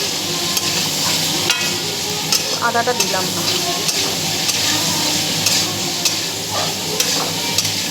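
Ground pepper, cumin and Kashmiri chilli powder frying and being stirred in a pan, a steady close sizzle broken by repeated scraping and clinking strokes, with a brief spoken remark.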